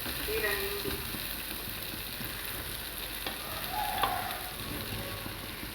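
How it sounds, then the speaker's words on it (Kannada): Soaked soybeans tipped into a hot pan and fried with stirring, giving a continuous loud sizzle with occasional scrape and clink of the spoon against the pan. "ಇವಾಗ ನಾನು ಸೋಯಾಬೀನನ್ನು ಹಾಕ್ತಾ ಇದ್ದೇನೆ."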